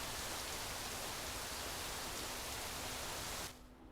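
Steady hiss of rain in the game Rising World, loud and unbroken, then cutting abruptly to a quieter muffled tone near the end.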